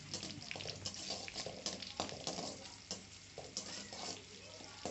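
Dried red chilies frying in hot oil in a pan over a medium flame, a continuous soft sizzle broken by scraping stirring strokes, close and quiet with no talking.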